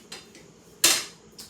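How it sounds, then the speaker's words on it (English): A utensil stirs essential oil into melted homemade salve in a cup, giving a few quick metallic clinks and taps, one clearly louder, close and alone. "I'm going to add my essential oil. I'm going to give it a good stir"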